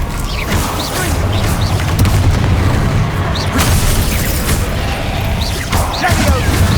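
Loud, dense spell blasts from Hogwarts Legacy combat, a sustained rumble of booms and bursts with sharper pops near the middle and end, alone with no talking.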